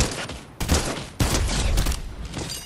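Gunfire from the battle royale game Fortnite comes in loud, close bursts of rapid shots, with sharp volleys separated by brief pauses.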